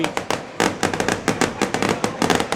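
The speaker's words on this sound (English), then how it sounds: "And the fireworks went off in the end zone." Fireworks burst in rapid succession above the end zone at a college football game, a loud crackling barrage of sharp pops and bangs, dense and close.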